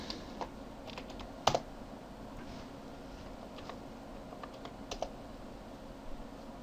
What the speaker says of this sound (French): Je tape le mot de passe.